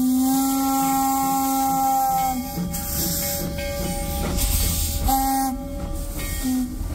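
Maria Fumaça steam train at Tiradentes, Minas Gerais, heading toward São João del Rei, sounding long steady whistle tones with hissing steam and rumbling wagons, loud and close, the whistle returning in shorter blasts.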